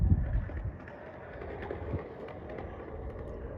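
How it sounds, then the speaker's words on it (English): Gusty wind rumbles across the microphone in low, buffeting bursts, heaviest at the start and then settling into a steady, muffled roar. "It is very windy."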